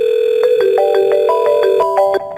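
Telephone call tones on a FreePBX VoIP extension 103, a loud, close electronic ringtone of quick beeping notes that stops abruptly near the end.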